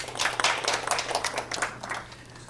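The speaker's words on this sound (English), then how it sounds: "Let's see my quick round of applause" Brief round of applause from a conference audience at a venture capital panel event, scattered claps in short bursts, moderate and fairly close, fading toward the end.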